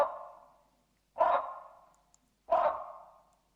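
Recorded call of an extinct flying bird species: three loud, harsh, bark-like calls evenly spaced about a second apart, each dropping away quickly, with silence between them.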